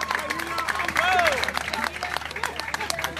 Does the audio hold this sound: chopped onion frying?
no